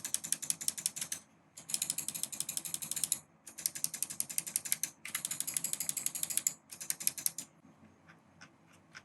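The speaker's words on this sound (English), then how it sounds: "This is what the mouse buttons sound like." Fast, steady runs of crisp main button clicks on a Glorious Model D Minus gaming mouse in several long bursts separated by short pauses, close up, then a few sparse clicks at the end.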